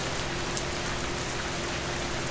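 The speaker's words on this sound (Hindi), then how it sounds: "तूफानी बरसात रुकने का नाम नहीं ले रही थी" Heavy stormy rain pours steadily over farmland, a dense, unbroken hiss that stays loud and even throughout, with no voices.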